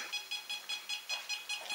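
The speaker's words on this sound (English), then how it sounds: "Does it beep more when you make it up?" A small electronic device emits a quick series of about eight short, evenly spaced high beeps, faint and alone.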